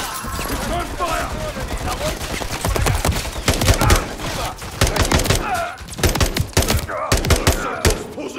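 Automatic weapons rattle in a video game shootout with police during an attack on a football stadium, played on PS5. Rapid, close bursts of fire come in clusters, with voices speaking between them.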